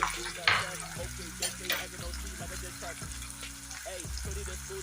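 Green peas and white beans sizzle in a pan of frying onions, with a steady crackle and occasional stirring clatter while someone talks over it.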